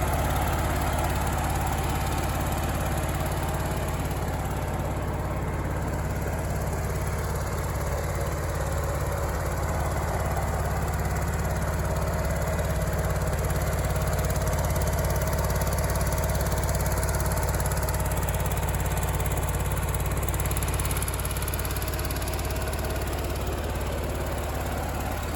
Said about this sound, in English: So that right there is the John Deere 400 in a running condition.